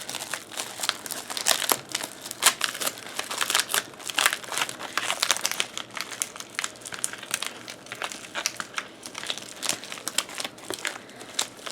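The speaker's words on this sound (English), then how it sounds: "We've got this little foil pouch." Small foil pouch from a monthly subscription box being handled and opened, with dense, close crinkling and crackling that continues steadily throughout, no talking.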